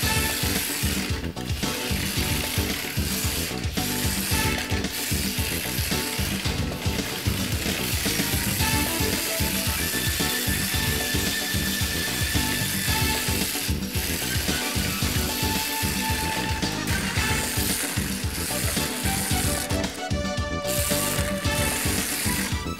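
A small Toyota Sprinter Trueno AE86 drift RC car runs continuously, a busy mechanical whir and gear rattle with clicking textures, moderately loud and near, with no talking.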